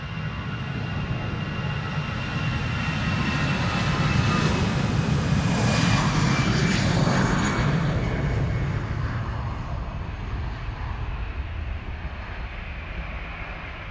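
EasyJet Airbus A320 taking off at Amsterdam Schiphol, a loud jet roar swelling to a peak midway as it passes, then slowly receding, with a whining engine tone above the rumble and no talk.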